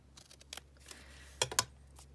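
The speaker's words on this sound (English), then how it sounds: "And then I'll just cut it down across there as well." Scissors snip through collage master board in a few short close cuts, quiet pauses between them and a tighter burst of clipped snips toward the end, no speech.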